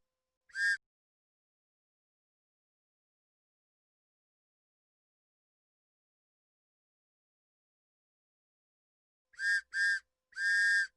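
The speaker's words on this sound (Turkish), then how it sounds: "Bir düdük sesi." A sharp, high whistle toots once, then after a long silence sounds three more times in quick succession, the last blast held longer.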